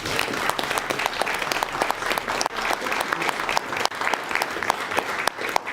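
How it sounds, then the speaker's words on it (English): Sustained applause from an audience at a commission meeting, steady dense clapping filling the whole stretch at moderate loudness with a few brief dips. "Let's give her a round of applause."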